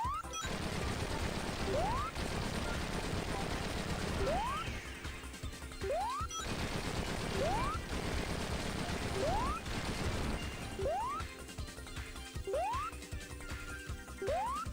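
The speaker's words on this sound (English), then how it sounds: "the very crunchy explosion sound effects on the Mega Drive" Repeated crunchy explosion bursts from Sonic CD on the Mega Drive, loud and dense, each followed by a short rising boing-like tone, recurring roughly every two seconds over continuous game noise.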